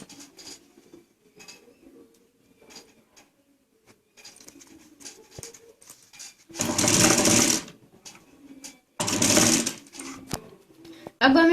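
Two short bursts of a sewing machine stitching a handmade Kachchhi handbag, each running about a second in rapid chatter, close and loud, with quiet handling and fabric rustle between them.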